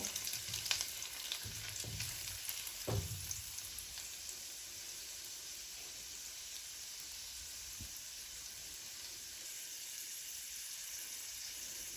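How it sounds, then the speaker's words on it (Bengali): Six or seven whole garlic cloves frying in hot oil, a faint continuous sizzle with a few sharp clinks and bubbly pops early on, then settling into a quieter steady crackle. "দিয়ে রসুনগুলো আমি হালকা পোড়া পোড়া করে ভেজে নিব।"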